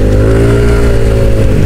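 Loud, steady engine drone of a Yamaha NMAX v1 scooter being ridden two-up, the mid-pitched hum holding even and close throughout.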